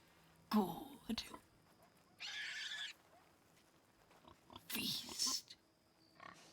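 Pigs grunt and squeal in Red Dead Redemption 2 roleplay, in short close bursts with gaps between them, while a player's voice is faint underneath.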